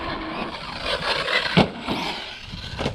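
A Team Corally Kagama 4 RC buggy on a 6S build runs over dirt jumps, its electric motor whining and surging with a brief thump around a landing, fairly close and without talk.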